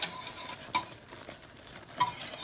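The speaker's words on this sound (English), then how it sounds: "we're just going to keep stirring, keep everything moving." A utensil stirs boiling honey caramel in a pot above 250 degrees, with a few sharp scraping clinks against the pot between soft bubbling and sizzling, up close and with no talking.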